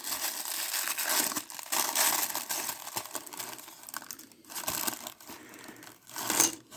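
Plastic packaging from Hasbro G.I. Joe retro O-ring action figures crinkles and crunches in steady bursts close to the microphone, with no talking.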